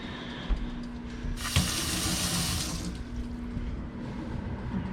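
A kitchen tap runs as a knife is rinsed under it, a steady hissing rush of water that starts abruptly, holds loud for over a second, then drops back to a softer trickle and background clatter.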